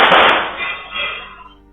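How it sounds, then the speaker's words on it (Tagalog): Five gunshots: a sharp, loud burst of rapid cracks at the start, echoing and fading over the next second and a half. "Maya-maya pa ay 5 putok ang umilingaw-ngaw."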